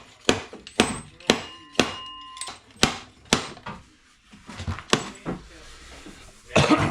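Repeated sharp metallic impacts, about a dozen irregular knocks of a slide hammer jarring a 904 Torqueflite transmission pump loose, close and loud with brief pauses between strikes.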